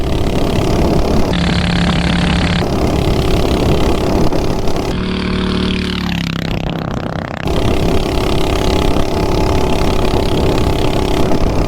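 A 420cc minibike engine fitted with a Volts sprocket runs steadily and loudly up close, its mid-pitched drone shifting in pitch as the revs change and dipping briefly midway.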